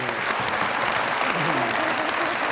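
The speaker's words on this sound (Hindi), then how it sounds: "बहुत सारी तालियां" A studio audience at a Pakistani comedy talk show claps steadily for a guest, a dense, even roar of applause with no voices over it.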